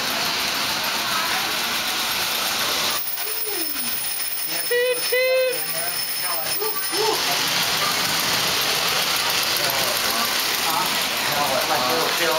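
A 1948 Lionel toy train hums and rattles along its track nearby, the steady mechanical whir softening as it slows, with people talking over it in the middle.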